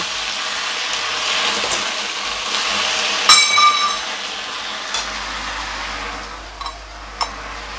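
Pumpkin flowers are stirred in a hot pan for a Bengali pumpkin-flower paste, giving a steady close sizzle with a couple of brief scraping clinks and the frying fading slightly toward the end, with no voices.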